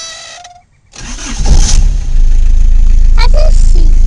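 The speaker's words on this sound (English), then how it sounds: "Is it gonna crank, JoJo?" An Isuzu I-Mark car engine cranks briefly and catches, settling into a loud, steady idle close by with a continuous low rumble.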